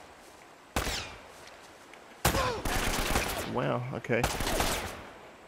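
Gunfire rings out in Uncharted: Drake's Fortune in loud, sharp bursts, several shots fired in quick rapid volleys with short gaps. A voice speaks briefly between the shots.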